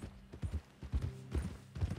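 A horse's hooves clip-clop in a steady walking rhythm in Red Dead Redemption 2, soft and somewhat distant, with no talk over them.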